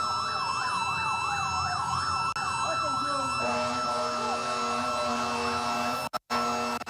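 Wailing emergency sirens at a funeral procession sweep up and down steadily, loud and close, then shift to a lower steady tone with traffic rumble underneath.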